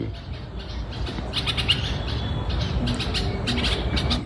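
Several birds squawk harshly and repeatedly, agitated calls guarding their nest and young from a nearby person, over a steady rumble of background noise, fairly close with no talking.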